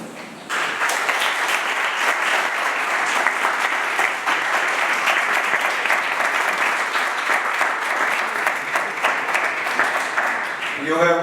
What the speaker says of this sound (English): You have clapped without understanding my word.